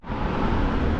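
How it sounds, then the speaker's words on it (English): Electric city bus in Shanghai, a steady broadband rumble and whir of the vehicle close by, continuous and fairly loud for about a second with no voices. "I'm pretty sure it's an EV bus, electric one. At least it sounds like it."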